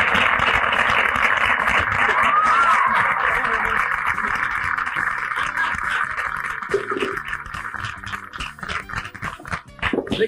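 A television studio audience gives sustained applause for a guest's entrance on a variety show, dense and steady at first, then thinning into scattered individual claps.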